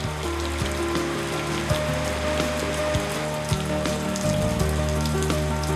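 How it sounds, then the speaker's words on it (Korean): A tropical squall in the rainy season pours heavy rain over an Indonesian seaside village. The downpour is a steady, close hiss of drops drumming on surfaces, with no voices. "잔뜩 흐렸던 하늘이 결국 비를 뿌립니다."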